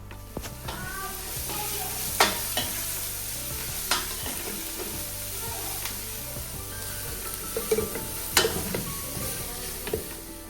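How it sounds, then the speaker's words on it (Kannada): Onions fry in a pan with pepper and spices for a special rice dish, a close continuous sizzle broken by repeated scraping stirs and occasional sharp clinks of the spoon against the pan. "ಇವಾಗ ಈರುಳ್ಳಿ ಹಾಕಿ ಚೆನ್ನಾಗಿ ಫ್ರೈ ಮಾಡ್ತಾಯಿದ್ದೇನೆ."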